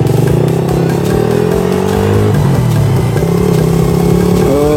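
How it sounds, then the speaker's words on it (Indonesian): A 2008 Suzuki Satria FU, a CKD 155-spec motorcycle, revs loudly and up close, its engine note rising and falling in steady throttle blips with no voices over it. "Kita jalan-jalan pakai Satria FU tahun 2008."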